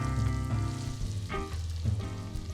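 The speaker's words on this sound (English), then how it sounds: "you get a much more robust flavor if you actually saute the aromatics at a high heat first" Aromatics sauteing in hot oil over high heat for Taiwanese braised pork over rice, a steady close sizzle and crackle that runs throughout with slight stirring movements.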